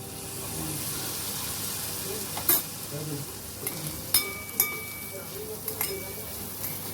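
Paneer khichdi is stirred in a pan just after the gas is switched off and lemon juice is added. A soft, steady sizzle continues underneath while a spoon clinks and scrapes against the metal several times.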